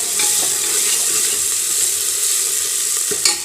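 Tadka of tempering spices for a green chickpea (hara chholia) sabzi sizzles loudly and evenly in a pan, with a few soft knocks and a sharper clatter near the end.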